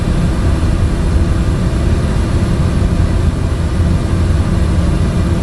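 Steady, loud drone of a Cessna Caravan turboprop engine in cruise flight in Microsoft Flight Simulator, a constant low-heavy hum throughout with no talk.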